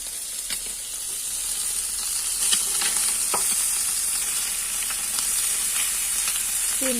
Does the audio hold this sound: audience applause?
no